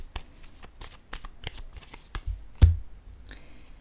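Tarot cards shuffled by hand in a close, dry rapid riffle of flicking card edges with a few louder slaps, set against a quiet background.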